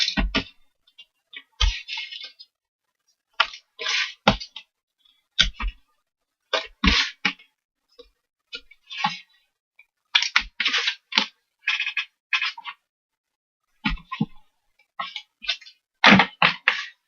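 Scor-Pal scoring tape is pulled and pressed onto cut pieces for a desktop organizer: a series of short, sharp crackling rips and peels, close and loud, separated by silent pauses.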